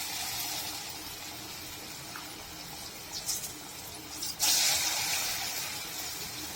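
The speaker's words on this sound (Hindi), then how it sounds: "हम कढ़ाई में तेल डाल दिए हैं। तेल हमारा गर्म हो गया है। तो अब इसमें हम ऐसे छोटा छोटा करके डालेंगे।" Small pieces of batter are dropped into hot oil in a kadhai, giving a steady close frying hiss that swells louder and brighter about two-thirds through as more batter goes in.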